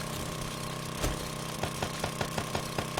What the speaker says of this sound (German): Ich höre etwas bohren.